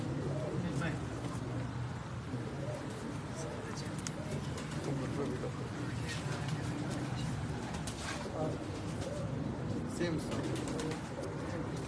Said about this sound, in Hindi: ये कबूतर बना हुआ फिरोजपुरी कबूतर, हाँ, जो इंडिया से आया है